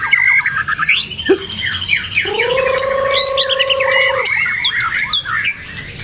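A white-rumped shama (murai batu) sings close and loud, mixing rapid chattering trills and squawks with a long sustained whistle, weaving in imitations of cililin and canary calls.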